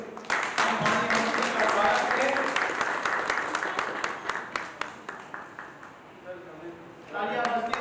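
Audience applause at the inauguration of a dolphin event honouring Professor R. K. Sinha, the Dolphin Man of India: a crowd claps under someone speaking into a microphone, then the clapping thins and fades before speech resumes.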